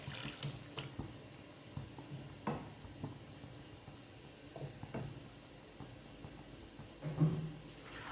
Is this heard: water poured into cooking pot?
yes